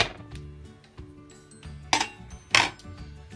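Pancake pan being taken off the stove: a few light metallic clinks and knocks of the pan and utensils, ending in two sharper clangs, heard close with no talk.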